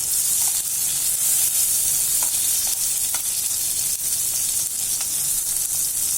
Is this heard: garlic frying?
yes